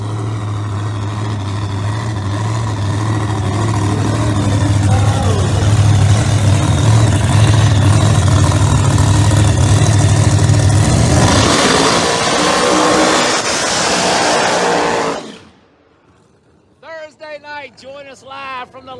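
A door-slammer drag racing car makes a solo bye run at a dragway, its engine loud and close with a deep, strained roar that builds and holds before cutting off abruptly, followed by a brief stretch of talk.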